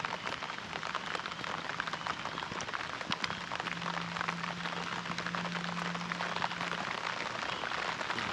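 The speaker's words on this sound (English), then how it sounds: "it's raining still a little bit" Light rain patters steadily and evenly at a campsite near a campfire, a continuous soft hiss of drops throughout, with a faint low hum in the middle and no talking.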